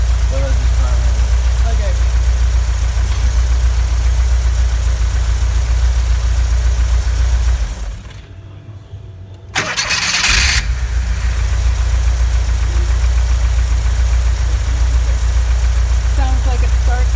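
A car engine idles with a loud, steady low rumble, cuts out briefly into near quiet, then cranks and catches again, settling back into an even idle; a voice speaks briefly.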